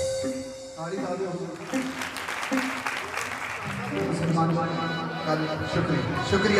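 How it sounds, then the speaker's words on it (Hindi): An audience claps at a devotional singing gathering, loud sustained applause with music playing beneath it and a voice speaking over the top. "ताली ताली"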